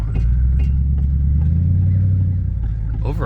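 A running V8 in a cheap, worn-out Ford Crown Victoria bought for $250, idling with a loud, steady low rumble throughout and a brief rising rev near the end.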